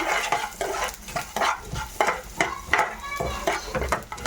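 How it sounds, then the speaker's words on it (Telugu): Urad dal, chana dal and cumin seeds frying in a pan while being stirred, producing a close sizzle with rhythmic scraping strokes and light metallic clinks about twice a second, with no voices. "2 టేబుల్ స్పూన్ మినపప్పు, 1 టేబుల్ స్పూన్ జీరా, ఇవన్నీ వేసుకొని బాగా ఫ్రై చేసేసుకుందాము."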